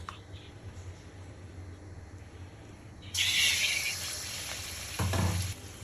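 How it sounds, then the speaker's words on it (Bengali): Stuffed pointed gourd (kakrol) fritters deep-fry in plenty of hot oil, giving a steady close sizzle that jumps louder and brighter partway through as more batter-coated pieces go in, with a later spatter burst. "দেখুন কাঁকরোলগুলো আমার কত সুন্দর ভাজা হচ্ছে"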